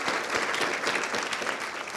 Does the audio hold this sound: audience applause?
yes